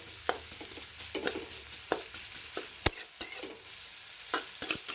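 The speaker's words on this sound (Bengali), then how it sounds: "ভাজবো পেঁয়াজ তোমরা মিহি মিহি করেও কাটতে পারো আবার ভাবেও কাটতে পারো" Chopped onions fry in a pan for dhaba style egg curry, a soft continuous sizzle broken by frequent brief scraping stirs, close and fairly quiet with no voices.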